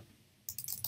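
Quick bursts of keyboard typing start halfway through, a run of close, crisp key clicks after a brief quiet moment.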